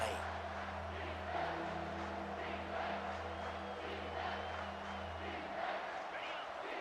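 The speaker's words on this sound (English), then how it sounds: "Decibels rising as the crowd gets behind this defense on 3rd down." A distant stadium crowd at a Florida Gators vs Alabama Crimson Tide football game roars in a steady, faint wash of cheering and noise that never breaks, rising on a third down.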